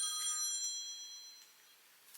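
A mobile phone ringing with a bright, tonal ringtone, steady and moderately faint, fading slightly toward the end, with no talk over it.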